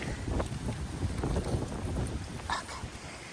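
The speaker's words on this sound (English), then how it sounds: "It is so windy out." Strong outdoor wind buffets the microphone in a continuous rough roar with gusty swells and a few brief knocks, and there is no talk.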